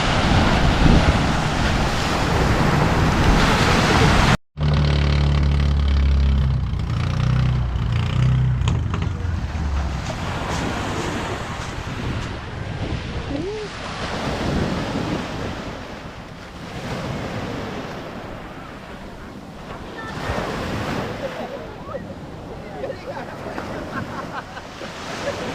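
Ocean surf rolls and crashes steadily in Mindoro, Philippines, while strong wind buffets the microphone, with a brief dropout early on.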